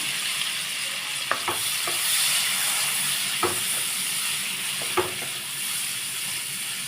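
Chopped onions frying with masala in a pan, a steady sizzling hiss with a few soft clicks of a spatula stirring against the pan.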